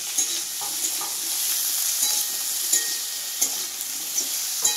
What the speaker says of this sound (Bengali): প্রথমে আমি বেগুনটাকে ভাজবো, এইভাবে আমি বেগুনটাকে ভাজবো।